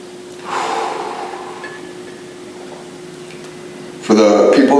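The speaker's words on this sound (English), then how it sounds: "we're just going to go into a 2-minute stretch of diaphragmatic breathing. In through the nose, out through the mouth" Slow diaphragmatic breathing during a stretching routine, drawn in through the nose and let out through the mouth; a long breathy exhale is followed by a quieter pause and then another louder breath, close and unaccompanied by talk.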